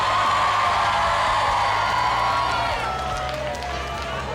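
A 20,000-strong crowd at a bungee ball ride roars and cheers continuously, loud and dense throughout, with shouts and whoops rising from the mass of voices.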